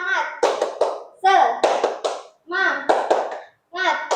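Children chant together in short bursts, punctuated by sharp rhythmic hand claps, with brief pauses between phrases.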